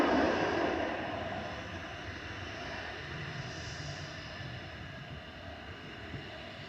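EasyJet and Lufthansa airliners at Manchester Airport, one lining up on runway 23 left as the other arrives from Frankfurt: a steady, broad jet engine roar, loudest at the start and then holding even at a distance, with no talk.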